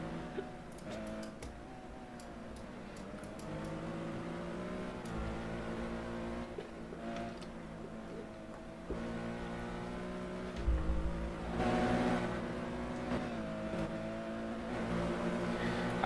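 Porsche race cars, including a Martini Racing entry, battle wheel to wheel in a sim race at Road America, their engines droning and revving steadily throughout with shifting pitch as cars pass, under a continuous layer of racing noise.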